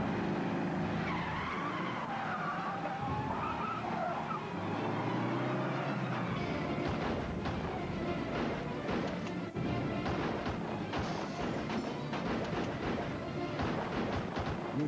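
Car tires skid and squeal hard as a vehicle swings into a U-turn during a chase, loud and sustained, with engine roar and harsh crashing noise layered over it.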